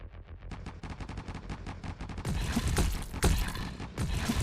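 Gatling turret in a tower defense video game firing rapid bursts of gunfire, a fast rattling stream that thickens into denser, louder volleys with heavy impacts partway through, no voices.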